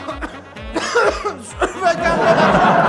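Coughing heard as a few short, forceful bursts mixed with voices and laughter, fairly close and loud, the sound growing busier and denser toward the end.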